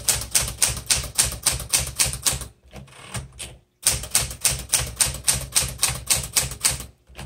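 Rapid, steady clacking of keys on a 1968 Classic 12 manual typewriter, loud and close, with a brief pause before the rhythmic strikes resume.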